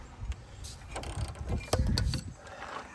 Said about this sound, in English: put your torque wrench in there until she clicks